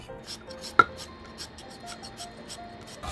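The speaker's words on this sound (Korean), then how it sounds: "요 배는 껍질 우선 까서" Skin is peeled from a pear with a knife while ingredients are prepared for dongchimi, a Korean radish water kimchi. Faint, repeated scraping strokes run throughout, with one sharper knock early on.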